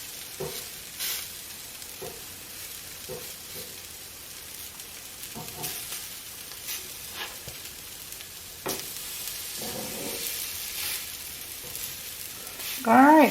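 Salmon patties frying in a cast-iron pan over medium heat, a steady soft sizzle with scattered pops and utensil clicks, a louder clatter at the end.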